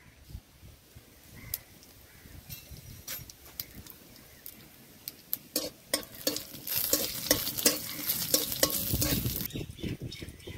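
Whole cumin seeds hit hot oil for a ridge gourd, potato and prawn curry. After a quiet start with a few stray ticks, they burst into dense, close crackling and sizzling that swells and holds.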